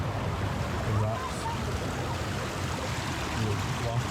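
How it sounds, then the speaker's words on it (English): Water rushing through the rocks at Johnson's Shut-Ins, a steady broadband roar of running stream water, close and loud throughout with no break. "we've made it down to the shut-ins water part where all this water runs through"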